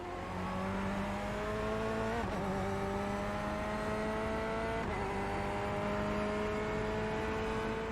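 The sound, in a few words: Corvette C8 race car in a video game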